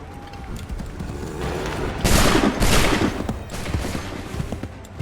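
Musket volley gunfire in the video game Assassin's Creed 3, a loud crackling fusillade of several overlapping shots rising over ongoing battle noise and rumble, no clear speech.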